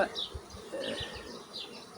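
Honey bees buzzing at a hive, a faint, wavering drone with a few soft thumps, close but low in level, no talk.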